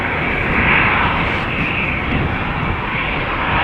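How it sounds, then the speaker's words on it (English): A KLM Embraer 190 jet airliner passes on its way to Cork, its engines giving a loud, steady broadband roar that holds for the whole stretch with no talk. "I can see an Embraer 190 coming this way to Cork from KLM."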